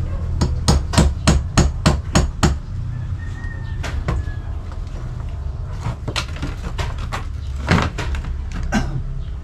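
A hammer is being used on a building job: a rapid run of about eight sharp blows, then a few scattered strikes and another quick burst, fairly close, with faint birdsong behind.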